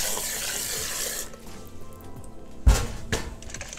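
Tap water runs steadily over mussels being scrubbed clean in a sink, a broad rushing wash that stops partway through, leaving sparse knocks and shell clatter and a sharp splash near the end.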